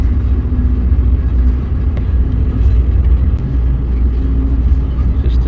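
A Chepe passenger train runs through a short tunnel near Creel, Chihuahua, giving a loud, steady, enclosed rumble of wheels and engine that holds without a break.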